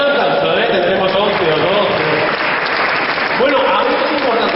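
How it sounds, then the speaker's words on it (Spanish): An audience applauds, a dense steady wash of clapping from many hands throughout, fairly loud, with voices mixed in beneath it. "Oye, un aplauso"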